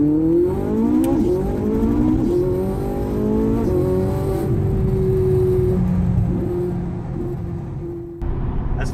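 A 2011 Ferrari 458 Italia engine and exhaust under driving, with a loud, close, rising rev that climbs through several gears, then settles into a steady drone before cutting off near the end.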